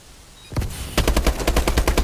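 Rapid automatic gunfire from Call of Duty Advanced Warfare: a single shot, a brief pause, then a steady loud burst of closely spaced rounds with no talking.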